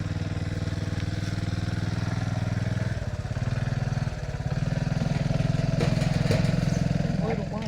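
A motor vehicle engine runs steadily and loud throughout, a low idling rumble with slight shifts in pitch, while voices talk over it.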